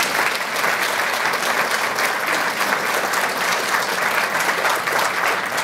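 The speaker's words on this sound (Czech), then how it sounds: "ale tleskáte hezky" Steady, dense applause from a large studio audience at a Czech television entertainment show, loud and continuous without pause, with no speech over it.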